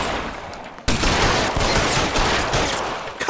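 Rapid, sustained gunfire from the L.A. Noire video game, a dense fusillade that breaks out abruptly after a quiet start and keeps up loud and close for the rest of the stretch.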